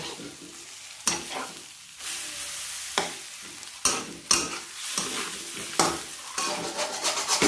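Egg and onion stir-fry in a pan with imitation crab: a soft, close sizzle broken by sharp, irregular scrapes and clanks of a spatula against the pan every second or so.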